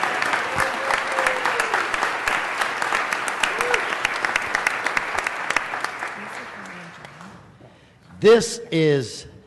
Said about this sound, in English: I'd like for you to give my wife a rousing round of applause.